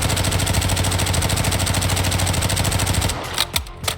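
MP5 submachine gun in Warzone 2.0 firing a sustained, rapid automatic burst for about three seconds, loud and close, then stopping with a few trailing clicks and handling noises.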